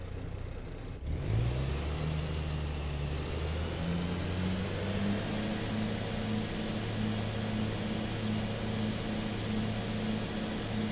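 A truck engine in Euro Truck Simulator 2 starts up and idles into a steady drone, with a turbo whine climbing gradually to a high sustained whistle; the engine and turbo run alone, without talk.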